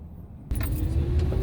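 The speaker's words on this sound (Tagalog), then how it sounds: "So tingnan nyo, grabing traffic" Heavy road traffic near a large stadium: a steady, dense rumble of passing cars starts abruptly and continues, fairly close, with no talking.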